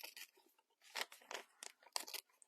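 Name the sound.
tearing paper around postal stamps by hand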